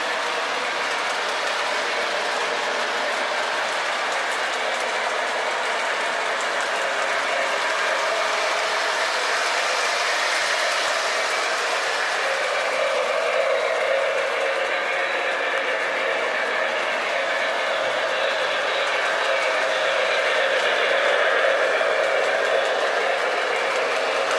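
A Lionel 2-6-0 Milwaukee Road custom model steam locomotive runs steadily on track, its wheels and mechanism giving a continuous close rolling clatter with a faint ratcheting texture throughout, no voices.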